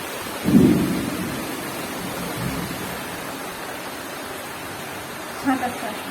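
Monsoon rain falls steadily outside a village home, a soft continuous hiss with a low thunder rumble early on and a couple of faint knocks near the end, all fairly distant and without voices.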